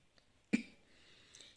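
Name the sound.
cough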